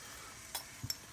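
Chicken with chili cooking over moderate heat in a pan for a British chicken tikka masala, a quiet sizzle with two or three sharp clinks of a utensil against the pan as it is stirred.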